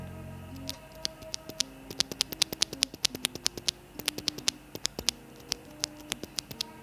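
Tactile brown mechanical keyboard switches being pressed, a rapid uneven run of sharp close clacks with a soft muted tone, played alone with no talk.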